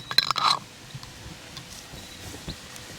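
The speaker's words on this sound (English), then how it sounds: "Put the lid on." A lid placed onto a glass jar of turmeric latte mix makes a short, close clink and scrape at the start, then near silence with one faint tap.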